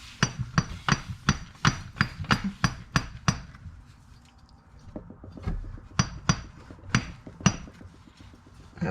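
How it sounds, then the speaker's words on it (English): A repeated metallic hammering as a car axle is slid back and forth like a slide hammer to seat it in a 2015 Chevy Volt, a steady series of sharp close clanks that pauses briefly then resumes. "I kind of use that axle as a slide hammer to pop it in"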